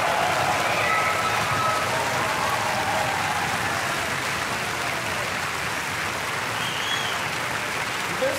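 An audience at a Swiss folk music TV show applauds a visiting music group. Broad, steady clapping fills the hall at a constant loud level throughout.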